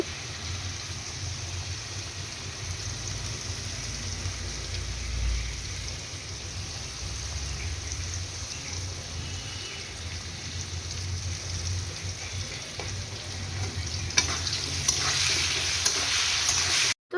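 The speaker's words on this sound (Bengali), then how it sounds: "লবণ দিয়ে আলুগুলো আমি ভালো করে ভেজে নেব" Potatoes with salt frying in a pan, a continuous close sizzle with soft stirring underneath, growing a little brighter and crackly near the end.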